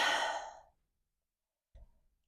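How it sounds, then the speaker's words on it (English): A single deep, audible exhale during a yoga stretch sounds as a breathy sigh that fades over about half a second. After a pause comes a brief soft low thump or breath. "Take a big breath."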